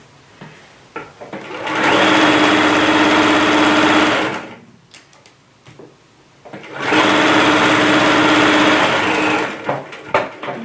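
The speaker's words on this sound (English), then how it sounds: "Mario Andretti sewing again" A sewing machine stitches an apron in two long, steady, loud bursts, separated by a few seconds of quiet handling and small clicks.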